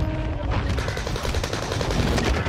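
Call of Duty gunfire on Rebirth Island: rapid, close bursts of automatic shots crackle over constant battle noise, with no voices.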